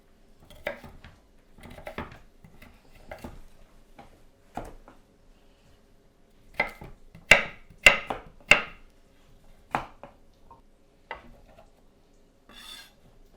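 Knife chopping vegetables for a soup, scattered quiet knocks on a board followed by a cluster of sharper clatters, like pieces scraped and dropped into a bowl, with long pauses between.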